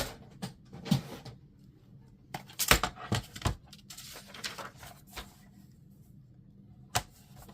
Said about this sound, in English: let me trim the edge off of them.